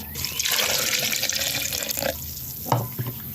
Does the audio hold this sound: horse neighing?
no